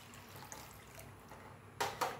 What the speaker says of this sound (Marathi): त्याच वाटीने 3 वाट्या पाणी घालायचं आहे